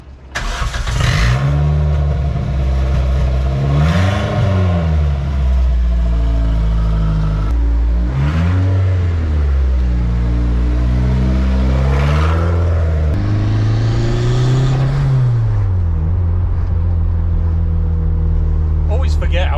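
A car engine drones steadily throughout, with repeated revs rising and falling in pitch as the car is driven, loud and close, with people talking over it.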